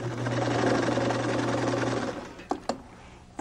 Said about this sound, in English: When we sew these bias strips together